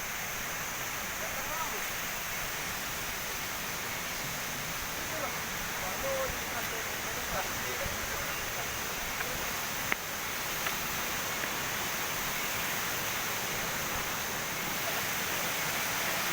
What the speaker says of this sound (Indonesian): ini adalah air terjun Menanti